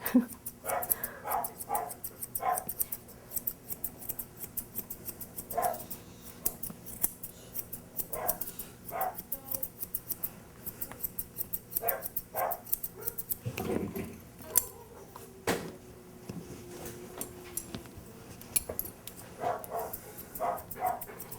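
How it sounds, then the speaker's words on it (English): Dogs bark repeatedly through an Old English Sheepdog grooming session, sharp yips and barks coming in bursts over steady scissor snipping and occasional jangling, with no talking. "Sounds like a boarding kennel around here."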